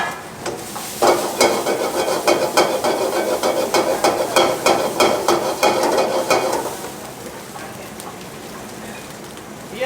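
Seafood fried rice with capsicum and tomato tossed in a hot pan: a loud, rhythmic run of rapid sizzling bursts, each toss rising and falling, settling into a softer steady fry afterward.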